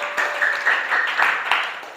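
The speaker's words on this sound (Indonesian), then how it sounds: "Tepuk tangan dulu untuk kita semua." Classroom applause from a group of students, a steady wash of clapping with a few louder bursts, filling the whole two seconds without talk.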